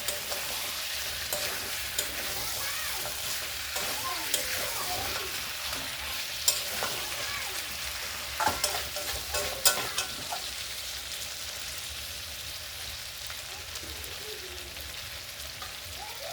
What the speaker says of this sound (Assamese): এতিয়া মই আলুখিনি আৰু মাংসখিনি আকৌ 3 মিনিট টাইম ফ্ৰাই কৰি ল'ম।